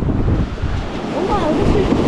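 Ocean surf washes up on a beach during mulloway fishing, a close rushing wave sound mixed with wind buffeting the microphone.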